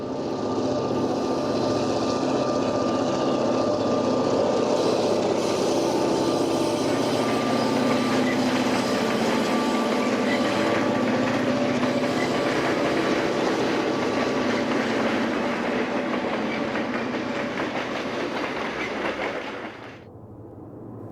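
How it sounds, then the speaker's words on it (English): Eastbound City of St. Louis passenger train (train number 10) rumbling steadily through Weber Canyon, Utah, a loud continuous roar with a faint steady tone above, easing off sharply near the end; no voices. "A flagman waves on train number 10, the eastbound City of St. Louis, at Weber Canyon, Utah."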